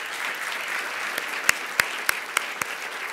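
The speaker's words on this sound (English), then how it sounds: "How about a round of applause?" Audience applause at a university distinguished lecture, a steady wash of clapping with a few sharper individual claps standing out, moderately loud and unbroken by talk.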